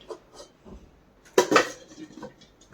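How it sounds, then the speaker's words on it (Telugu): A steel bowl of ragi balls clanks down onto a steamer with a bright metallic clatter and a lid settles on top, after a few faint kitchen clinks. "ఇప్పుడు దీని మీద ఈ గిన్నె పెట్టేసుకొని మూత పెట్టి"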